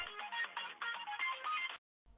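A phone ringtone plays a repeating electronic melody at moderate volume for under two seconds, then cuts off abruptly as the call is picked up, with a faint sound after.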